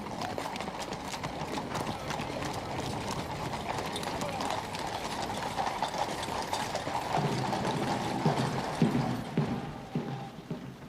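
Horses' hooves clip-clopping as they pull royal carriages in a state procession, a steady dense patter of hoofbeats with rattling harness and wheels, heard under a speaking voice throughout.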